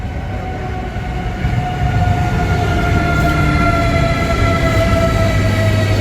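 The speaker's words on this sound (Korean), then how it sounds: "프라가는 열차" Train bound for Prague running on rails, a loud steady rumble with sustained tonal squeals and hums from the wheels, growing slightly louder partway through, with no talking.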